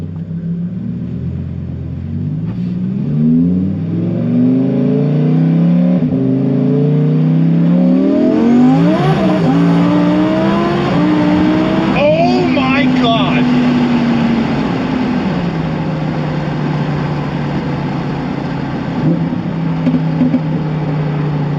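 Lamborghini engine on its first drive, a loud deep rumble that revs upward in rising sweeps, eases back and then settles to a steady cruising drone. No one speaks.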